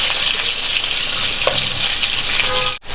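Green chillies and curry leaves fry in hot oil for a tempering, a steady loud crackling sizzle throughout with a brief stir near the middle and a sharp cutoff just before the end.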